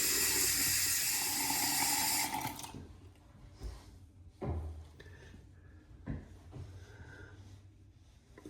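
A Cygnus razor is rinsed under a running tap after shaving. A close, full rush of water flows for a couple of seconds, then cuts off, followed by scattered soft knocks and small splashes.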